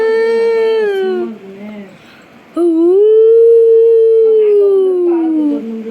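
A dog howls long and loud nearby at night in a house, two sustained, wavering howls separated by a short pause, with no talk over them.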